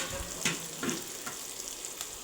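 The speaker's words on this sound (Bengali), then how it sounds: "এখন সেই সেম তেলেই আমি পেঁয়াজ কুচি কাঁচামরিচ কুচি দিয়ে দিলাম, দিয়ে হালকা করে একটু ব্রাউন কালার করে ভেজে নেব" Chopped onion and green chilli frying in hot oil, a soft, steady sizzle with a few faint crackles and stirring scrapes, quiet and close with no talk.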